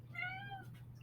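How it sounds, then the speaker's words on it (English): A cat lets out a single short meow, close by, over a steady low hum. "because he keeps meowing."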